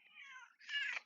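A cat gives two quick meows in succession, the second louder and harsher, fairly close and otherwise quiet, with no talking.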